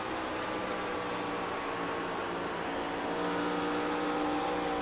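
An ARCA race car engine in a racing video game holds a steady, high-pitched drone around an oval speedway, loud and continuous with a slight swell toward the end.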